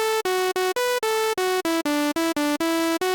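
A synth plays a melody rebuilt from a vocal line: a bright, buzzy lead of about a dozen clipped notes stepping up and down in a lively rhythm, each note separated by a short gap, with no voices.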